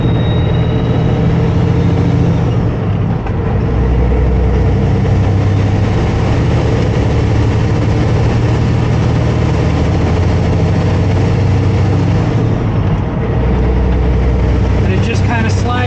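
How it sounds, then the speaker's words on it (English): A semi truck engine with an 18-speed manual transmission, a loud, steady low diesel rumble that dips slightly as gears are shifted, with someone talking over it throughout. "just let the clutch out slow, get it to about 1500 RPM, and just let off the throttle, pop it out, pop it in."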